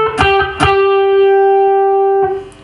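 Electric guitar lead lick: two quick picked notes, then a note on the second string bent up a full step and sustained, ringing clearly before a final pick near the end.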